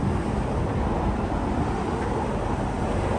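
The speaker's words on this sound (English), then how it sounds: "sorry about the road noise" Road traffic noise, a steady broadband roar of passing vehicles heard outdoors beside a motorhome with hydraulic levelling jacks, constant and fairly distant with no talk.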